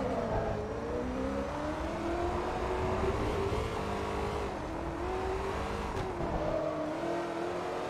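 Ferrari race car engines in Forza Motorsport 3 hold a loud, steady droning whine that rises and dips slightly with throttle, sustained throughout without any talk.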